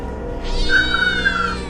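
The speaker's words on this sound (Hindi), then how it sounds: "तभी अचानक बस के सामने एक काली बिल्ली आ जाती है" A black cat in an animated cartoon meows in a drawn-out, wavering call that rises and falls over about a second, heard close and clear over a low background of music or ambience.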